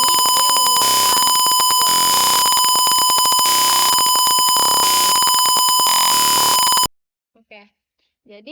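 A buzzer in an ultrasonic sensor circuit simulated in Tinkercad sounds a loud, continuous electronic tone with strong steady harmonics for about seven seconds, then cuts off abruptly, leaving near silence with brief faint traces.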